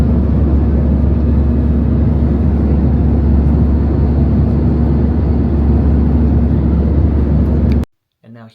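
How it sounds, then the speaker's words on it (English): Steady, loud broadband roar of airplane cabin noise during flight, a constant engine and air rush that cuts off abruptly near the end. "This was shot from an airplane."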